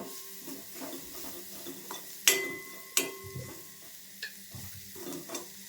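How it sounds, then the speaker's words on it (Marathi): Wild monsoon kartule (fagla) vegetable bhaji is stir-fried with Malvani masala, a soft sizzle broken by several distinct metal spoon clanks and scrapes against the pan. "मालवणी मसाला दीड चमचा व्यवस्थित असं परतून घ्यायचा"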